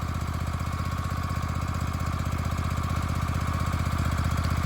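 A 2021 Hustler Hyperdrive zero-turn mower runs close by, its engine chugging in a fast, steady pulsing rhythm at constant loudness, with no talking.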